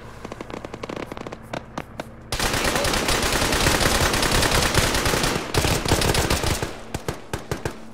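Gunfire at a bunker in the military game Arma: sparse single shots, then a long, loud burst of rapid automatic fire, dropping back to scattered rhythmic shots at the end, with no talk.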